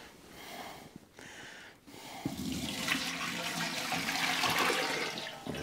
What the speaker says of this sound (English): What we want to see happen here is the water instantly gets sucked right down into the bottom pan.